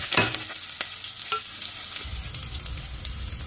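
A tempering of curry leaves and potato frying in hot oil for a brinjal curry, with steady close sizzling and a few stirring scrapes, no voices.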